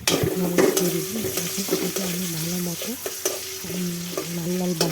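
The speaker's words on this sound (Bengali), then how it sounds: "আস্তে আস্তে করে পেঁয়াজটাকে ভেজে নিচ্ছি" Onion frying slowly in oil with whole cumin gives a steady soft sizzle, broken by scattered crackles and pops and the scrape of stirring, under a low humming tone, with no talking.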